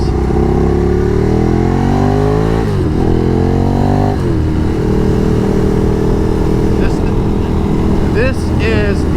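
Ducati Streetfighter motorcycle with a carbon Termignoni exhaust, recorded while riding: loud engine rising through the revs with sharp gear-change dips, then holding a steady roar, with brief throttle blips near the end.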